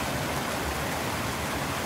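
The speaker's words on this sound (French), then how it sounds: "J'adore les cascades. J'adore cette eau qui coule et qui fait du bruit." A small mountain torrent and waterfall rushes without pause. The broad, dense hiss of flowing water is close and loud, with no voices.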